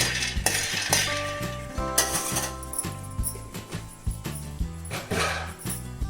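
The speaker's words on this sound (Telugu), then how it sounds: "కొన్ని పల్లీలు వేసుకుందామండి" Peanuts roasting in a pan on the stove for a Telugu ridge-gourd chutney, with a spoon scraping and clinking against the metal in a steady, uneven rhythm, close and moderately loud, with a faint tonal hum behind.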